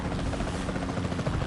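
Capture team helicopter in a video game, with a steady, loud rotor thrum and buzzing engine drone filling the whole short stretch, no voices over it.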